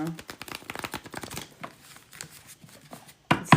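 A deck of tarot cards is shuffled close by in quick, rapid riffling bursts, with a few quieter pauses between them.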